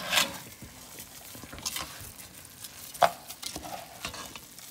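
A spoon scrapes and clatters through pork and rice mixed in a pot for a Puerto Rican dish, producing intermittent stirring scrapes over a faint sizzle, with a couple of sharper clinks.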